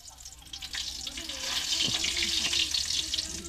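Squid cooking over heat, a bright crackling sizzle with popping spatter that swells and stays lively up close, along with a few low knocks and scrapes.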